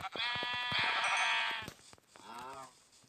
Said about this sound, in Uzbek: Birinchi qo'ylar.